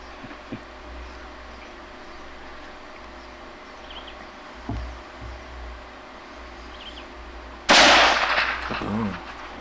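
A big-bore .375 or .458 hunting rifle on a Tanzania safari fires one loud, sharp shot that rings out and decays after a long stretch of quiet outdoor ambience.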